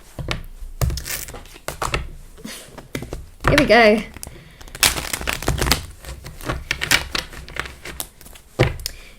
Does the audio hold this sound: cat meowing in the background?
no